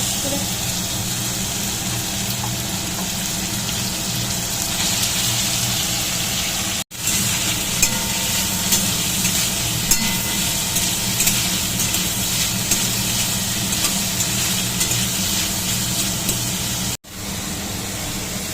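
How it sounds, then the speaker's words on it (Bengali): Meat fries in a pan for fried rice with a continuous dense sizzle, loud and close, interrupted by two brief cuts. No one speaks. "এখানে মাংসটা এখনও ভাজা হচ্ছে"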